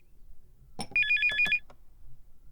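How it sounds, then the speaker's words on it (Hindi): A telephone rings close by, giving a short burst of rapid, warbling electronic trills in one loud ring, with a few small handling noises just before it in an otherwise quiet room. "कितनी देर से फोन बज रहा है"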